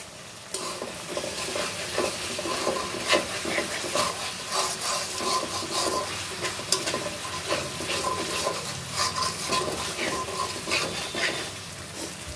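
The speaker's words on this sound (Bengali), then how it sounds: "দেখো, মশলাটা কষানো হচ্ছে।" Spice paste fries in hot oil with cinnamon pieces and green chilies, crackling and sizzling steadily while it is stirred, the scraping and spattering close and continuous, with no talk.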